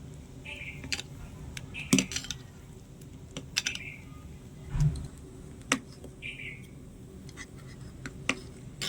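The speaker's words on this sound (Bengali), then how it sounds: "এবারে ভালো করে মিশিয়ে নেবো" A spoon stirring a ripe mango sherbet with sago in a bowl, giving scattered light clinks and taps against the bowl, close but quiet, in irregular strokes with brief gaps.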